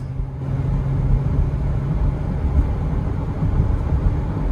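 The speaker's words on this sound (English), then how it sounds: "Got up to 50, driving pretty good." A car accelerating on a residential street during a test drive, its engine and road rumble a steady, fairly loud low drone throughout, with no voices.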